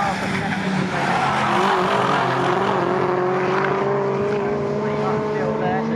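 MG race cars at Snetterton circuit drone past in a loud, continuous engine roar, pitch sliding as they brake and accelerate, with a commentator talking over the noise.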